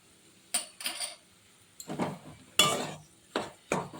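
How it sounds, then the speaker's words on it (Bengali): Spoon scraping and clinking against a pan while green chilli pakora batter is stirred, in several separate bursts with quiet pauses between them, close and fairly loud. "এইভাবে আবারও নেড়ে নিচ্ছি"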